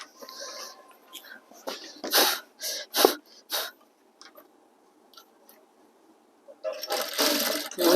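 A sewing machine stitching school uniform trousers runs in several short bursts up close, separated by quiet pauses, with a longer run at the end.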